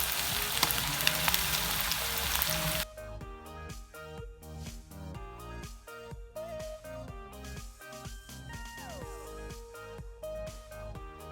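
Onions and ginger sizzle and crackle in a hot pan for a few seconds, then background music takes over.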